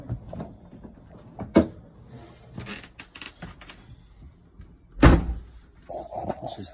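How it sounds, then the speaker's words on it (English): A door thuds shut once, close and fairly loud, after a stretch of footsteps and shuffling movement. "I'll shut the door behind me."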